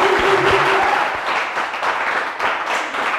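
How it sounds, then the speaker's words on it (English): Applause from a studio audience at a quiz show, a loud dense wash of clapping that holds steady throughout with a faint tone briefly audible early on. "give a round of applause"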